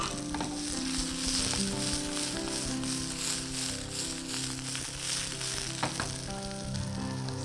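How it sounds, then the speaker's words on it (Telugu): Garlic and peppers sizzle and crackle in hot oil for a green bean noodle dish, a loud, close, continuous frying hiss with occasional stirring clatter. "హీట్ అవుతున్న ఆయిల్లో వెల్లుల్లి వేద్దాం."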